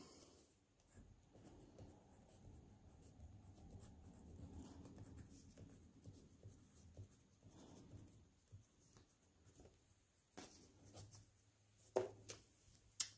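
A pen or pencil writes on paper in a quiet room, soft intermittent scratching strokes with pauses, followed by a few sharper taps near the end.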